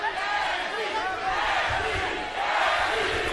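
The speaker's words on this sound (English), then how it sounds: "Crowd chanting for Tim Bradley" Large arena boxing crowd chanting in unison for Tim Bradley during a fight, a dense, sustained roar of many voices at moderate distance.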